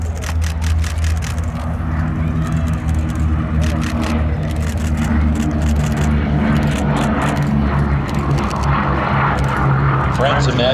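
A P-47 Thunderbolt warbird, a heavy single-engine American World War II fighter, roars past at an airshow with a loud, sustained engine drone throughout, over steady crowd and commentary noise.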